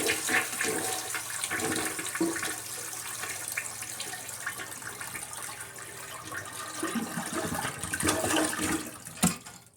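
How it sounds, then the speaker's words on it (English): A toilet flushes to empty its tank before the flapper is replaced, giving a steady loud rush and swirl of draining water that runs for the whole stretch and surges briefly near the end. "you'll need to flush the toilet and get as much water out of the tank as possible"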